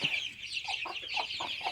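Thirty-eight-day-old chicks on a native chicken farm in Madurai cluck and peep, several short repeated calls from a close flock over a steady high-pitched chorus of chirping.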